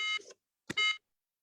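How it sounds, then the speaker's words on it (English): An electronic device with a dying battery gives two short bright beep tones separated by a brief gap, clean and isolated against silence. "I heard a beep beep and then a beep beep and then a nothing."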